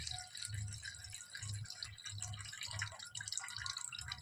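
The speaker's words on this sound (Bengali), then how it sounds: "চালটা তো সুন্দর করে আগে ধুয়ে নিই, জলটা ফেলে দিই।" Rice is rinsed and the cloudy water poured off while cooking khichuri, with rhythmic wet sloshing and grainy rattling pulses repeating steadily, close and fairly quiet.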